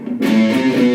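A fast neoclassical sequence on electric guitar follows a brief silence, played as a quick, continuous stepwise run of notes with a clean, sustained tone.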